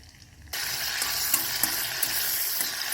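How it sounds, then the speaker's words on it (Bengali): Chicken slices drop into hot oil in a wok and burst into a loud, steady sizzle that continues without pause, close up and with no voices. "তেলটা গরম হয়ে গেছে। আমি আগে চিকেনের স্লাইসগুলোকে ভেজে নেব।"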